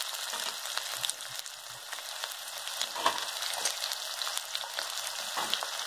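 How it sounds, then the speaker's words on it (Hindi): Onions stir-frying in oil for achari bhindi, a steady broadband sizzle running the whole time with light stirring scrapes and no talk. "अब मैं डाल दूंगी इसमें प्याज।"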